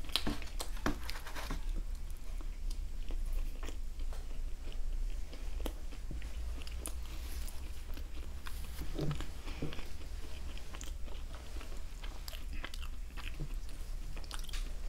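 Close, moist chewing and biting on a buttery bun popcorn chicken sandwich, with soft crunches and mouth sounds repeating steadily throughout and no talking.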